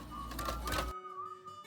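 Embroidery machine stitching an in-the-hoop doll house pillow insert, a steady mechanical whir with a fluttering rhythmic stitching texture that cuts off sharply about a second in, leaving a faint hum.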